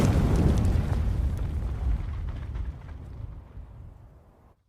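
A landmine blast in a war film booms loudly up front, then its low rumble slowly decays and fades to silence over a few seconds.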